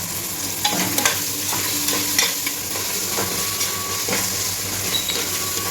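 Tomatoes sautéing with salt in a pan, stirred now and then, giving a steady close sizzle and frying hiss with soft scraping and clinks over it, no voices.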